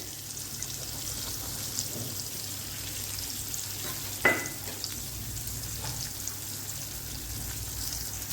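Green beans (sliced green beans) sautéing in a pan for rava upma give off a steady, continuous sizzle, with one brief sharp clink near the middle and no voices.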